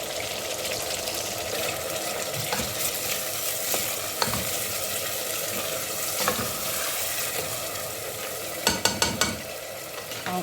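Blended onions and green pepper being stirred in a pot of chicken gizzards, a steady close sizzle with scraping spoon strokes and a quick run of sharper clinks near the end.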